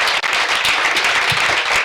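A stand-up comedy audience applauds, a dense, steady burst of clapping filling the room at close range for a couple of seconds.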